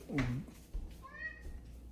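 A house cat gives a short, close meow, followed by a fainter rising second call, over quiet room background.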